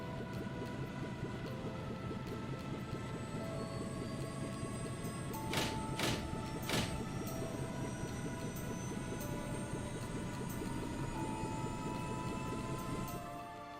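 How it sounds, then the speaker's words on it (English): A warship lifts off in the video game Trails in the Sky with a continuous loud engine roar and droning hum, joined by a few sharp bursts midway, sustained close throughout. "Royal Guardsman warship Arcee, prepare for takeoff."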